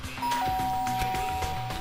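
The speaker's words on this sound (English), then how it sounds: "I guess I'll just try the bell." Doorbell rings in the video game Danganronpa, a clear synthetic chime with sustained tones that hold steadily across the short clip, loud and close with no voices.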